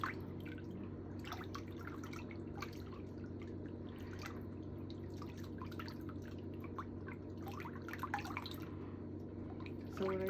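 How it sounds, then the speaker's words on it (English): Steady water drips plink at an uneven pace over a constant low background hum, with no voices. "the sound of the water on your videos is so soothing"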